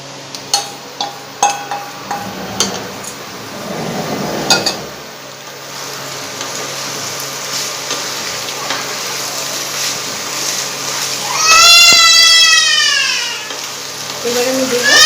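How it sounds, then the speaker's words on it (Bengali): Pasta tipped into a pan of frying masala, a steady loud sizzle with scattered clicks and a scraping clatter early on, then continued frying with a brief high warbling cry near the end. "এবার আমি এর মধ্যে পাস্তাটা অ্যাড করব।"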